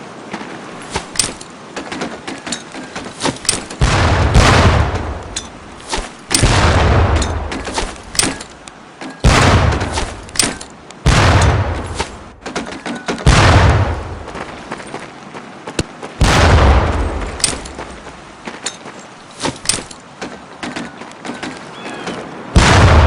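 Training grenades bursting in the World War II shooter Medal of Honor: Pacific Assault during boot camp, a run of loud booms and blasts spaced every few seconds amid crackling game effects, with no talking.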